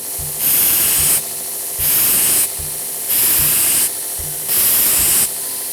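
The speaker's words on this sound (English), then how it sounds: "we're gonna finalize our grind lines and do some polishing and get this blank ready for a handle" A carbon steel knife blank is ground and polished in bursts: four loud, harsh surges of abrasive hiss, each about a second long, separated by quieter gaps with lower mechanical rumble.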